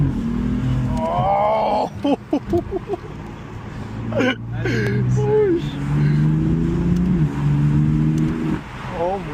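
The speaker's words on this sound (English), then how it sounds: "This is my first proper drive as well with the new exhaust." A BMW F82 M4 with its S55 engine and equal-length midpipes accelerates, a loud exhaust drone building and holding with a brief break, while people in the car exclaim and talk over it.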